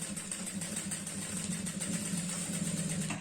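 Sewing machine stitching a girl's skirt, a steady, fast mechanical whirr with a fine rhythmic chatter, fairly quiet and unbroken with no talking.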